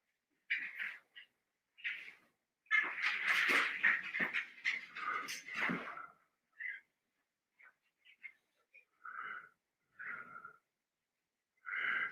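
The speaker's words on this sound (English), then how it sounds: "that's my dog playing with one of his toys." A small dog plays with one of its toys indoors, giving off bursts of snuffling, wheezy breaths and faint whimpers, with a dense scuffling flurry in the middle followed by short, spaced sniffs and huffs close by.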